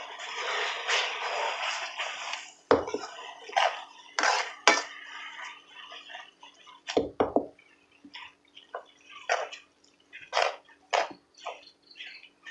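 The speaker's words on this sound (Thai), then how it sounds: "ผัดวุ้นเส้นจ้ะพี่น้อง" Glass noodles being stir-fried with egg in a pan give a steady sizzling hiss, broken by clanks and scrapes of a utensil against the pan.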